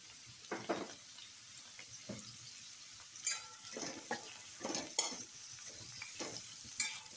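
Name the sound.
onion frying in oil in a pan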